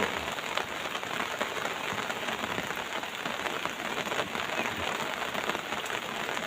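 Steady, even rain pouring onto a hard surface in the early morning, a dense hiss of drops that holds constant throughout with no voices.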